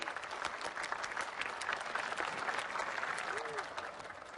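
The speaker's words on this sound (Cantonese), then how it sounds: "我哋掌聲歡迎林校長為我哋致訓詞。" A school audience claps steadily for the new headmaster, a dense, even patter of many hands at moderate distance that fades slightly toward the end.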